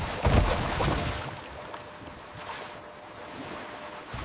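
Rough sea and wind roar together, with a loud surging burst near the start and then a steady churning rush of water and gusts.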